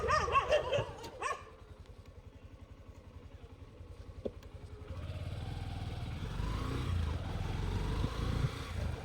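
Dogs bark in short, loud bursts near a Zomato delivery rider's motorcycle in Bhavnagar, followed by a steady engine rumble that grows as the bike moves off.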